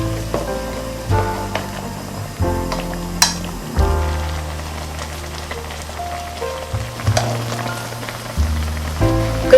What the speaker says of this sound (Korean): 뚜껑을 닫았다 열었다 하면 비린내가 나기 때문에 열어놓은 채로 끓여줄 겁니다